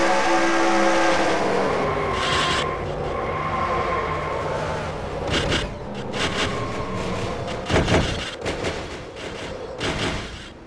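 A stock car pileup in a racing video game at Texas: a loud roar of engines fades into a series of sharp metallic crunches and impacts, with cars whooshing past and a heavy hit near the end.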